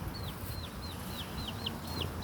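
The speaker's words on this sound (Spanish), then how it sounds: "aquí están los gallos" Roosters give a quick run of about eight high, sharp, repeated calls over a low outdoor background, with no one talking.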